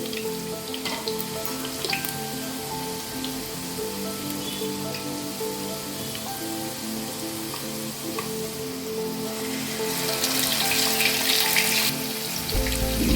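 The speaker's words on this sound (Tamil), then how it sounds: "இஞ்சி பூண்டு போட்டாச்சு இது நல்லா வதங்கி வதங்கட்டும்" Ginger and garlic fry in an oil-filled pan for a mushroom gravy, a steady close sizzle with crackling bubbles that grows brighter and louder toward the end, with occasional stirring.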